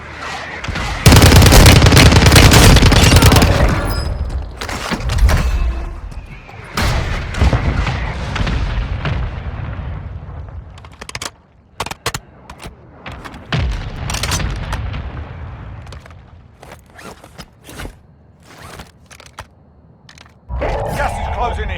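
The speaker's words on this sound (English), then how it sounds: "Hostile mortar strike incoming." Mortar strike explosions in the mobile battle royale game Warzone Mobile on the Verdansk map, loud booming blasts and cracks with scattered gunfire in a dense, continuous barrage.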